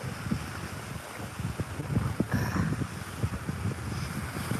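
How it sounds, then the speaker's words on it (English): Ocean waves wash steadily with wind buffeting the microphone, a continuous broadband rush with low rumbling surges, fairly close and without voices. "nice to hear the waves, so peaceful"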